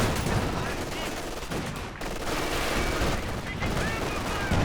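Sustained machine gun fire crackles in the Company of Heroes 2 battle, dense and continuous bursts amid other gunfire and in-game battle noise, with a commentator talking over it.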